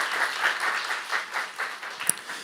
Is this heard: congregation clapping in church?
yes